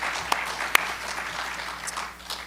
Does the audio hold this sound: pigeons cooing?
no